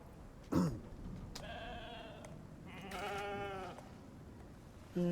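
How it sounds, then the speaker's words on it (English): A female wild sheep bleats in the survival game Icarus, giving two drawn-out, wavering bleats after a short sharp sound, fairly close and clear against a quiet background. "What do we have? Female sheep."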